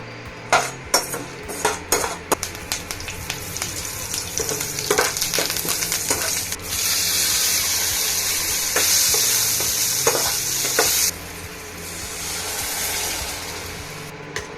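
Mustard seeds and cumin sizzling in hot oil for a buttermilk curry, with a steady frying hiss, scattered crackles and spatters, and some stirring or utensil knocks, close and fairly quiet.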